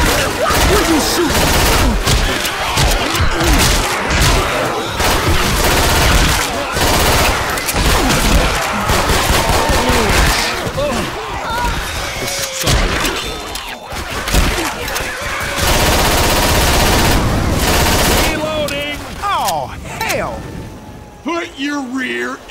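Video game Left 4 Dead 2 gunfire: dense rapid bursts of shots and automatic fire, loud and nearly continuous, with voices calling out over the action.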